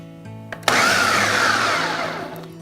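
A food processor whirs into a single loud, continuous pulse of about two seconds as it cuts chilled gluten-free pie dough, following a faint click and a short bump.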